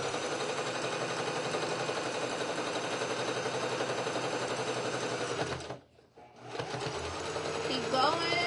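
A sewing machine stitches men's shirt fabric in a steady, loud run that stops briefly near the end and then resumes, with a voice talking over it.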